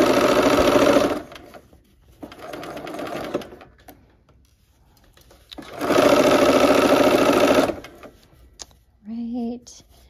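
A sewing machine stitches quilt pieces for a dino star quilt in two loud, steady motor bursts separated by quieter stitching and pauses, and a voice is briefly heard near the end.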